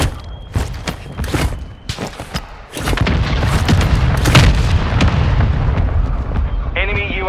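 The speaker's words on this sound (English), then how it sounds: "Friendly mortar strike inbound." Mortar strike explosions in Call of Duty: Warzone, with a series of sharp cracks and booms followed by a heavy sustained rumble of blasts. A voice speaks briefly near the end.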